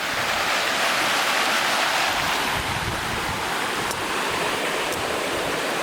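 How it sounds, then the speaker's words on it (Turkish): Steady rushing water roars without pause, a broad constant wash like a strong stream or river nearby, with some wind. "Günde kaç bin ton su akar buradan ya."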